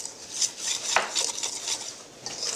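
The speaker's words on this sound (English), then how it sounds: "Are you sure I have to mix this while all the ingredients aren't in it yet?" Utensil clinking and scraping against a bowl while cake batter is mixed at home, a brief sharper clatter midway, steady light stirring throughout with no talk.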